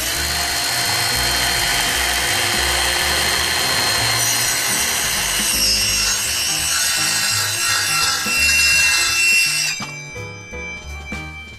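A BLACK+DECKER BDCCS20B 20-volt cordless circular saw set for about a half-inch depth cuts steadily through wood, its loud whining blade and rasping bite running for nearly ten seconds before spinning down and stopping.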